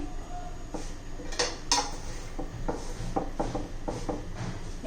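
Carrot and poha cutlet mixture with sesame seeds, chaat masala and coriander being mixed and kneaded by hand in a bowl, giving soft repeated scrapes and clinks of a utensil against the dish, close and steady, with no talking.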